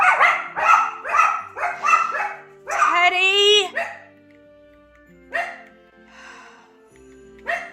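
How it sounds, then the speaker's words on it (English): A dog in the Project Hunt hunting game barks in a rapid string of loud, close yaps, followed by a longer whining howl and a few sparse barks, while a person calls out over it. "He will bark at everything"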